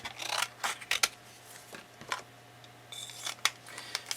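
Scissors cut down an ink-stamped paper card panel in short, close snips and rustles with irregular pauses. The cuts are quiet but crisp, and no one speaks.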